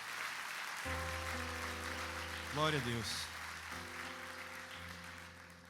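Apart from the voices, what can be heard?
applause in church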